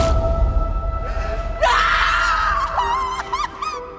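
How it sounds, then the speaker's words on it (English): A woman lets out a long, piercing scream in a TV horror series scene, loud and close, breaking into shorter wavering shrieks after an earlier faint cry. "when I heard that first gut-curdling scream"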